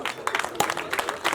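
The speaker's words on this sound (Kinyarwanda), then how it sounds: "muryango mwamuhaye amashyi" Brief applause at a wedding ceremony, a scattered round of hand claps from the gathered crowd, moderately near and mixed with voices.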